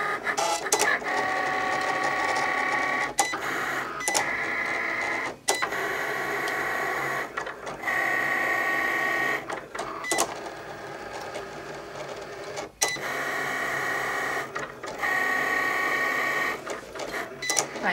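A Cricut Explore cutting machine cuts cardstock for a box and lettering, giving a continuous close mechanical whir and buzz of carriage motors that shifts pitch and stops briefly between moves.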